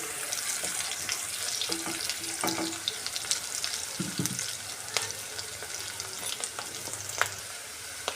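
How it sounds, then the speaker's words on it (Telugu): Chopped onions frying in oil in a pan while cooking an egg curry with broad beans, a steady sizzle with occasional clinks and stirring scrapes, close and continuous, no voices. "ఇది ఒక రెండు నిమిషాలు పచ్చివాసన పోయే వరకు బాగా వేయించాలి"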